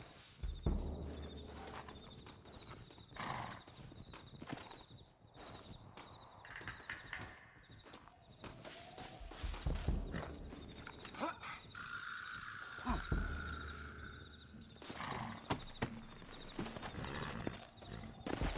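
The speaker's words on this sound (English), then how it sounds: "Looks like Carlos left us some horses." Hooves clip-clop amid a busy mix of sounds from the video game Red Dead Redemption, set in Mexico, with scattered animal calls and a steady high tone, fairly faint overall.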